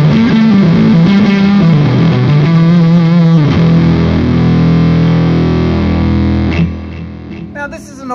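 Electric guitar played through a germanium fuzz pedal with the guitar's gain fully up on the neck pickup, giving thick, saturated sustained notes and chords that play loudly and steadily, then thin out into quieter, choppier picking near the end.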